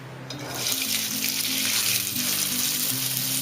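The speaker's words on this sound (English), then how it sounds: "Now I am going to add the cauliflower and the French beans to the oil." Cauliflower and French beans hit hot oil for a restaurant-style mixed vegetable sabzi. After a brief quiet start, a loud, dense sizzle surges up and holds steady.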